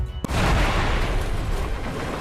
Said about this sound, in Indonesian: terdengar suara ledakan